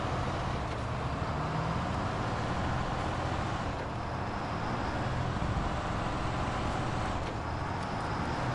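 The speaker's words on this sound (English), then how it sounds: "It's a long wheelbase truck." A modded long-wheelbase truck drives in SnowRunner, its engine a steady, broad, loud rumble with continuous road-like noise and no pauses.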